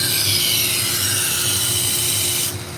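A Victorinox Fibrox chef knife, dull and with a 20-degree factory edge, is drawn across a sharpening surface in a steady, close scraping hiss that runs unbroken for a couple of seconds and then stops.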